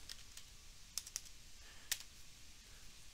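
Several light clicks of typing on a computer keyboard, a few sharp keystrokes spaced out over quiet background, close and faint.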